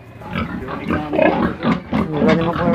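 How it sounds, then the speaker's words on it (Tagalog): Pigs grunting and squealing in a farm pen while a sow gives birth, with a string of close, loud grunts and snorts rising and falling, and a person talking faintly underneath. "dalawa yung lumabas na baboy"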